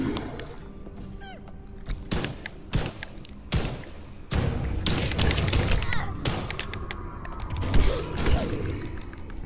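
Sharp, loud gunshots from a pistol in the video game Enigma do Medo crack out one after another at irregular intervals, with thumps and game sound effects in between.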